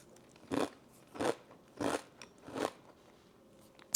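Crunchy Catalina Crunch Cinnamon Toast protein cereal being chewed, four loud, evenly spaced crunching bites up close, followed by a quieter fifth.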